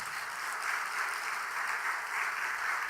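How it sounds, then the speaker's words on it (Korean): A church congregation claps in a steady, continuous round of applause that stays even for the whole stretch, with no talking over it. "박수 한번 하십시다."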